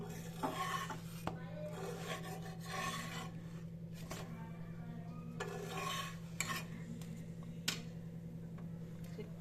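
Millet (bajra) flour dough for roti is worked by hand with soft rhythmic rubbing and rasping, quiet and close, over a steady low background hum with occasional light ticks.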